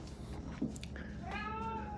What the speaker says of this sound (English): Every morning, same serenade. The meow meow serenade.